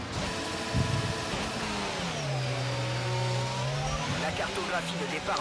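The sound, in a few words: F1 car engine on formation lap, video game F1 22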